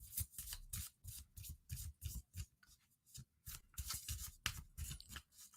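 Tarot cards being shuffled by hand, a quick run of crisp riffling slaps and rustles in bursts, close and fairly quiet, with no talk.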